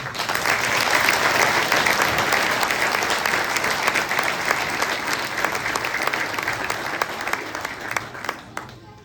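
Sustained applause from an audience for the youngest performers at a Saint Sava academy evening held by the church community in Danilovgrad, loud and steady before tapering off at the end.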